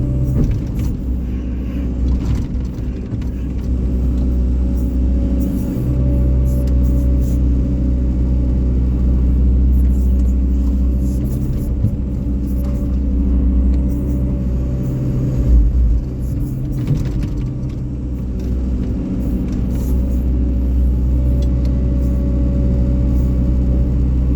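Heavy Thai six-wheel and ten-wheel dump trucks deliver laterite and clay to a building site, a loud, steady low diesel rumble continuing throughout, close by, with no talk.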